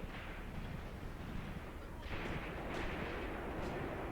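Battlefield gunfire from a Graviteam Tactics game battle, a dense steady rumble of distant shots that swells louder halfway through, with several sharper reports cutting through the roar.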